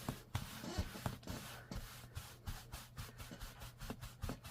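Vigorous scrubbing of a stained item on a shaking tabletop during card-making, rough rubbing strokes repeating in an uneven rhythm, close and moderately quiet with no talking.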